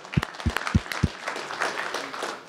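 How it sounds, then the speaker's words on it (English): A few sharp, separate claps ring out near a conference audience, then a thin, scattered patter of applause follows and fades quickly. "clap for that"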